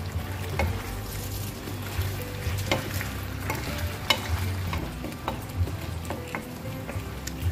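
Beef, shrimp and broccoli stir-fry in a pan, giving a continuous moderate sizzle with regular scraping and tapping of a spatula, close up and without speech.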